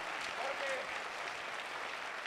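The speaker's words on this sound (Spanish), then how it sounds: "Un aplauso a mi amigo el gay que se llama." Applause from a live audience at a Spanish-language comedy show, a dense steady patter of clapping with some voices mixed in, fairly quiet throughout.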